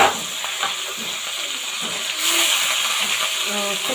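Green chilies and ground spice paste sizzle in a pan with a steady, close, broadband hiss, swelling slightly partway through as stirring scrapes occasionally.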